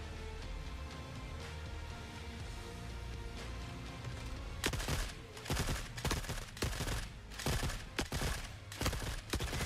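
MG34 machine gun fire from the video game Forever Winter: rapid, punchy bursts crackle in the second half over a dense, rumbling battle backdrop.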